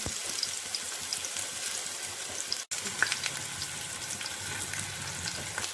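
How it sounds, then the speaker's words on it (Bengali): Steady, dense sizzling of pumpkin flower fritters frying in hot oil, close up, with a brief dropout midway before the crackle resumes. "এবার আমি বড়াগুলো ভেজে নেব।"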